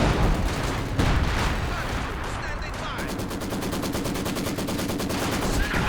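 Maxim machine gun fire in the Company of Heroes 2 strategy game rattles in rapid, evenly spaced bursts, loud and close, with a heavy blast and battle noise earlier on.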